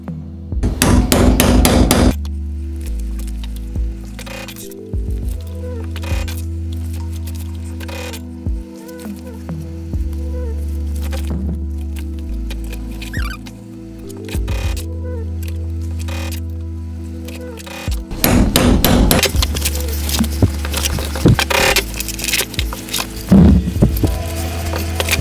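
Rivets are hammered on a DIY suspended leather cage. Rapid, loud blows come in a dense burst at the start and again toward the end, with scattered single taps and quieter handling in between.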